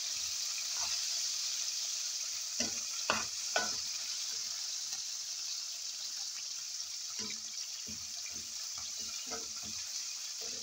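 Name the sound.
stirring tomato with garlic frying in a pan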